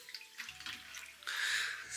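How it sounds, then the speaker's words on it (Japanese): Raw pork liver is dropped into a bowl of water in a home kitchen, giving a brief splash followed by a louder stretch of sloshing and running water, heard up close with no talking. "この水にレバーをつけて"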